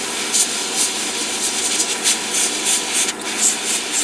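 An airbrush spraying paint onto a PG 1/60 Unicorn Gundam model, a steady close airy hiss with faint pulsing puffs throughout.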